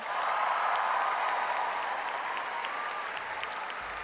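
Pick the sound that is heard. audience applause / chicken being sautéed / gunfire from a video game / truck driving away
audience applause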